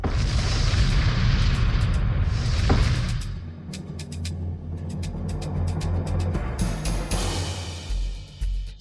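A bomb goes off in a French-dubbed action film, a loud sustained rumbling blast with a sharp crack near the middle, then debris and crackling bursts that keep rolling on, with no voices.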